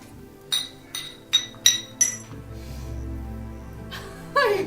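Glasses clink together in a toast, five bright separate chinks in quick succession, followed by a low murmur and a final faint ringing touch of glass.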